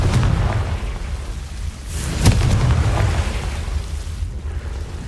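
Confringo fire spell explosion in Hogwarts Legacy: a dense, rumbling roar that swells into a sharp burst near the middle, then keeps churning with crackling debris at a steady, loud level.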